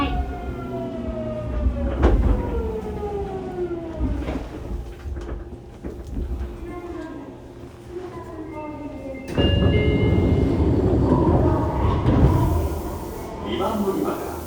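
Fukuoka City Subway 2000 series set 23 with a late-type Hitachi GTO-VVVF drive making an abnormal noise: whining motor tones slide in pitch over a rail rumble, then a louder, rougher roar swells in, heard from inside the car.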